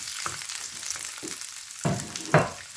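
Bell peppers hit a hot frying pan over medium heat, giving a steady broad sizzle with a few louder crackling bursts as they are stirred, close and alone.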